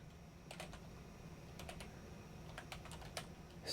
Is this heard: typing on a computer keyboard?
yes